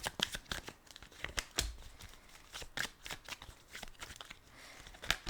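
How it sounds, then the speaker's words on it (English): Tarot cards shuffled and laid down in a reading, a quick run of crisp papery flicks, slaps and rustles at close range, soft overall with irregular sharp peaks. "Alright, I'm gonna lay out the cards."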